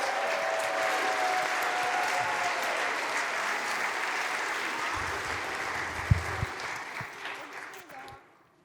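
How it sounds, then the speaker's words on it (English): An audience applauds the cast of a stone soup performance at a worship service, steady sustained clapping that fills the room for several seconds before tapering off toward the end. "Let's give a hand of applause to our wonderful cast"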